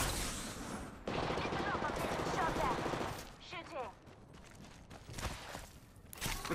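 Automatic gunfire bursts from the battle royale shooter Apex Legends, loud and dense in the opening three seconds, then sparser shots and scuffling footsteps with a voice talking over the action.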